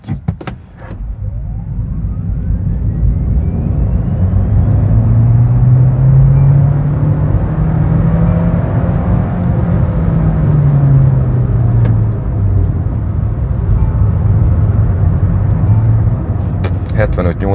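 Interior of a 2024 MG3 Hybrid+ full hybrid with automatic transmission and 194 hp accelerating hard, a loud steady engine drone whose pitch rises then eases over many seconds.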